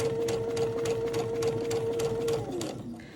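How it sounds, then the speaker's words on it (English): A Baby Lock sewing machine fitted with a jeans foot stitches through thick denim, a rapid even mechanical whir with a steady tone close by that slows and stops at the end. "And then I'm going to sew off of this heavy thickness."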